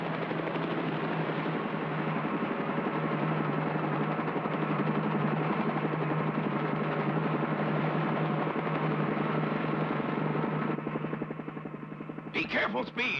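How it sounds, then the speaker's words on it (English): Cartoon helicopter following racers in a Grand Prix, a loud steady whirring rotor drone that holds nearly unchanged, then dips and ends with a brief clatter. "The pitman and mechanic of each team will follow their driver in a helicopter."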